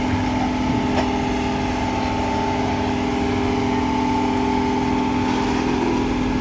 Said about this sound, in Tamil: அசோக் லீலாண்ட் வண்டி போட்டது தான் போட்டாங்க தரமாக இருக்கும் வண்டி